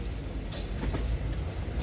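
Passenger train on the Hosapete to Harihara route via Kottur and Davanagere, a steady close rumble of wheels and carriage noise with faint clatter throughout, no voices.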